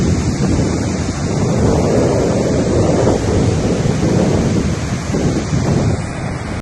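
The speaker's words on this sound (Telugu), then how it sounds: "భారీ వర్షాలకు కుంతాల జలపాతం పరవళ్లు తొక్కుతోంది" Kuntala waterfall running in full spate after heavy rains, a dense, steady roar of rushing water with wind buffeting the microphone, loud and continuous with no voices.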